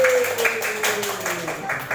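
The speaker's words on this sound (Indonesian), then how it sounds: "sekali lagi beri tepuk tangan untuk kelompok brokoli" A classroom of students claps for a presenting student group, quick rhythmic claps under a teacher's talking voice, fairly close.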